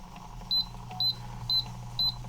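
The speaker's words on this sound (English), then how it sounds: "now I heard it beep, so it is time to add the sugar" A Ball jam and jelly maker beeps four times at an even pace, short clear electronic tones over a low kitchen appliance hum.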